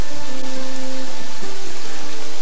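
Rain falling in the video game Kingdoms and Castles, a dense steady hiss of drops with faint tonal game music drifting beneath, loud and constant without talk.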